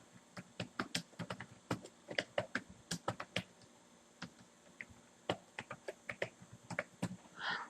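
Rapid, irregular keystrokes on a computer keyboard as product details are entered, crisp clicks close by in quick bursts with short pauses, no one talking.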